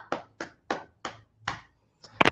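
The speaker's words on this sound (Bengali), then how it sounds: "একটা জোরে হাততালি।" Six sharp hand claps in a steady, even rhythm, close and clear with no talk, given to applaud students on their exam ranks in an online class.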